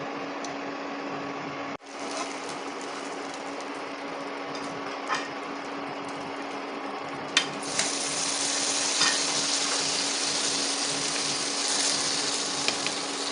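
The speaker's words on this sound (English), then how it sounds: "As you can see, it's sizzling perfectly" Steady sizzling of food frying in a pan, a constant crackling hiss with a brief dip early on, then growing louder and brighter.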